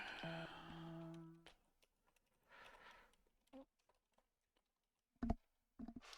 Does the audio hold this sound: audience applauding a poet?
no